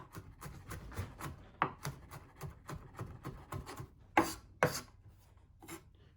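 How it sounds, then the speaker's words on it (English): Rapid knife chopping of garlic on a board, a quick uneven series of sharp taps with a few louder strikes, close by and without speech. "just roughly chopped garlic like that"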